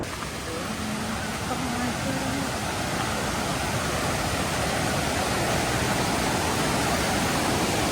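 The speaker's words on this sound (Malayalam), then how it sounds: "ഇതാട്ടോ നമ്മളെ വെള്ളച്ചാട്ടം" Steady, loud broadband rush of a waterfall at a Wayanad tourist spot in Kerala, a continuous roar filling the whole stretch without pause, with faint voices briefly audible early on.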